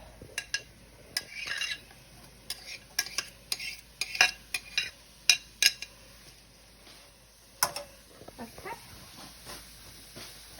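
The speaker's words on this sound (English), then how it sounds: "we're going to saute them till the onions and peppers are done" Onions and green peppers sizzle faintly in a frying pan while a utensil scrapes and clatters against it in irregular bursts, close by, with no talking.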